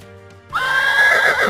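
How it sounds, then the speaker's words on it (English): After a moment of faint background tone, a horse lets out a loud, close, shrill whinny that wavers and trails off, with no talking over it. "Horses go neigh."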